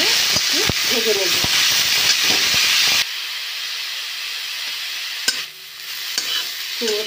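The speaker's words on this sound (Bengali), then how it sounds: "এর মধ্যে কেটে রাখা কুমড়ো পাতাটা দেবো। এবারে এটা নেড়ে চেড়ে একটু ভেজে নেব।" Chopped pumpkin leaves stirred and fried in a pan for a prawn and pumpkin-leaf paste: a loud, close sizzle with utensil clinks, easing after about three seconds into a quieter steady hiss with a few sharp scrapes; a voice is briefly audible early on.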